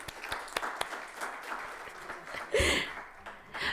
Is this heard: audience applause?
yes